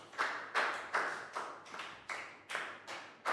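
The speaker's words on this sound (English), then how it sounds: "Big round of applause for Pak Bung." A Year 3 English class claps together in a classroom, producing a quick run of about eight sharp, evenly spaced group claps in a steady rhythm, fairly close and with no talking.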